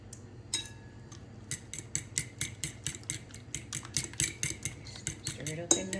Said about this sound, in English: Stir it up in there.